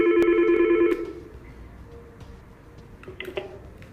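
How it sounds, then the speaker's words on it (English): An analog phone on a Yeastar PBX extension rings with a loud, close electronic trill for about a second, then stops, leaving quiet room noise and a few faint clicks. "8002 rings. Pick up to answer the call."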